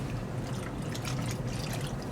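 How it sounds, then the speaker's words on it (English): Water trickles and splashes steadily as a cloth is rinsed out, a continuous close liquid sound with no voices, after distressing paintwork with paint and wax. "make sure that you rinse your cloth out"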